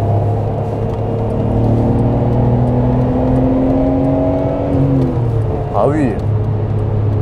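A Nissan R32 GTR pulls hard on a circuit, its engine drone rising steadily in pitch through the gears with a shift near the end, loud and close under conversation in the cabin.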